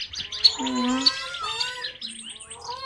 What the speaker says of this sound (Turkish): Bu da bir tane kuş arkadaşlar. Robin.